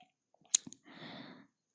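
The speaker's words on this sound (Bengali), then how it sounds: "একটু পাঁপড় ভেজে নিচ্ছি।" Papad frying in hot oil gives a short, crackling sizzle lasting under a second, preceded by a few soft clicks and taps; quiet and close, with no talking.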